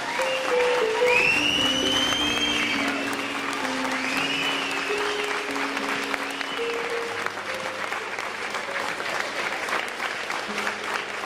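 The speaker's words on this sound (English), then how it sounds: "Let's give Anthony a nice round of applause." Wedding guests applaud after a best man's speech, a steady wash of clapping from a large crowd that holds for the whole stretch, with faint background music tones running underneath.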